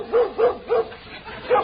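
Dog barking as a radio show sound effect: four short, clear barks in a loose rhythm, close and fairly loud, with no talk over them.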